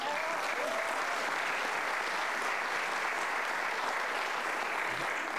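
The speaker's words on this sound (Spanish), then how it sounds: "Un gran aplauso." A crowd claps at the Encuentro de Cantautores de Angol 2017 singer-songwriter concert, a steady, even wash of applause that sounds somewhat distant and soft and continues unbroken for several seconds.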